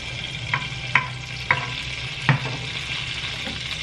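Oil from Spanish sardines sizzles in a hot pan, a steady close hiss broken by several distinct taps and clinks of a utensil against the pan, with no voices.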